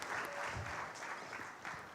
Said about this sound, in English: Let's give a round of applause to her.